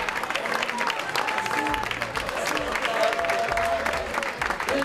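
Inter fan club members applauding two arriving players at a club gathering, sustained crowd clapping with cheers and voices mixed in throughout.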